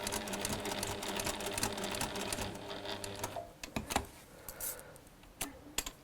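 A sewing machine runs continuously for about three seconds while stitching around the edge of a fabric flower, then stops and gives way to a few quieter clicks and handling noises.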